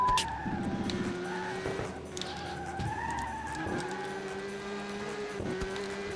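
A prototype race car in the PS2 game Le Mans 24 Hours roars close by, its engine note climbing and dipping as it passes over a steady drone of other racing engines.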